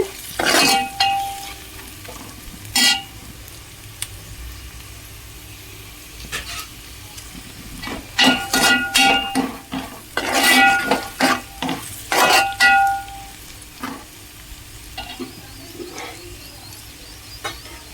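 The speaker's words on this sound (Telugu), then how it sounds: "కారం కొంచెం పచ్చివాసన పోయేంత వరకు వేయించుకోవాలి." Ivy gourd fries in a pan with chili powder: a steady sizzle broken by bursts of scraping stirs and clinks of a utensil against the pan, loud and close, busiest in the middle and fading toward the end.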